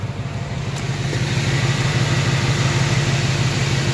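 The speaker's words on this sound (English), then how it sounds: "If you want to hear it yourself, the car is currently running." A Vortech-supercharged 2018 Ford Mustang GT idles steadily up close, its low, even engine rumble continuous throughout with no voices.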